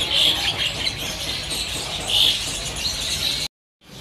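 Sooty-headed bulbuls chirp at a bird market stall, thin bright calls repeating in short bursts over a steady background hum, fairly near, then cutting off abruptly.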